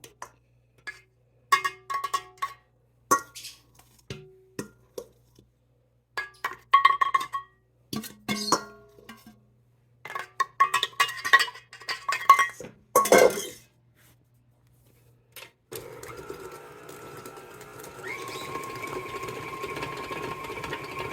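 Gluten-free chocolate chip cookie dough with coconut flour mixed by a stand mixer, a steady motor whir with clinks and knocks against the bowl, coming in bursts and then running continuously toward the end.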